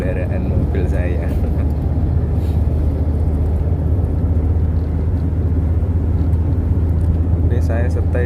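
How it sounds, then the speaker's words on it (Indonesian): Steady, loud road and engine rumble inside a Suzuki Ertiga cruising on a toll road at around 60 km/h with the AC running, a continuous low drone throughout under someone talking. "Entah ini cakapan saya itu kedengeran atau enggak, apa kalah dengan suara berisiknya kendaraan mobil saya."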